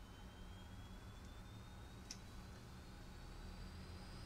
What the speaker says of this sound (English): You can hear that start to spin up. That's the number one left-hand engine.